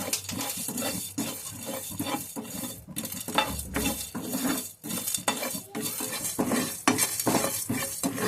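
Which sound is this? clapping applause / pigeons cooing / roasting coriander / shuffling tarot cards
roasting coriander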